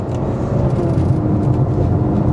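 A Ferrari station wagon accelerates hard past a Chevrolet Equinox, its engine a loud, close, continuous roar heard from inside the cabin without a break.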